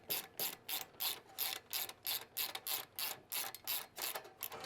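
A ratchet wrench snugging up bolts in a car garage, giving a steady run of about a dozen rhythmic, close clicking strokes with no talking.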